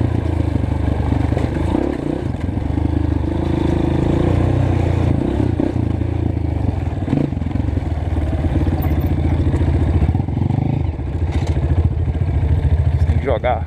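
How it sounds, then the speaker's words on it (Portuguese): A dirt bike engine in third gear, engine braking on a descent, runs steadily at a loud, even pitch nearby, with mechanical rattle and a voice speaking over it. "Minha moto tá de terceira."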